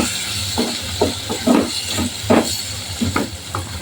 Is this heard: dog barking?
no